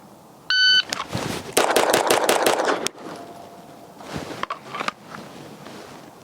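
Gunfire from a Fowler Vanta 9 pistol on a shooting range, a quick string of sharp, loud shots fired in rapid succession after a timer beep, followed by a few scattered softer reports and range noise.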